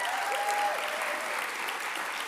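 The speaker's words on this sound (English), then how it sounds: "I do want to take this time to keep our round of applause going for all of our amazing speakers, Larissa Costello," Audience applause at a PechaKucha Calgary closing, honoring the evening's speakers; steady, dense clapping fills the whole stretch at a moderate, even level.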